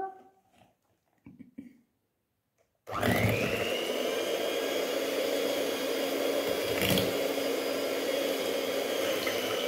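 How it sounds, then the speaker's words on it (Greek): A few soft handling sounds while making cupcakes, then an electric hand mixer starts up and whirs loudly and steadily at close range until the end. "Τώρα κάνουμε με το μίξερ."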